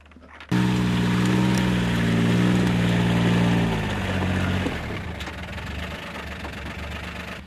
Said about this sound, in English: This little green vehicle is called a gator.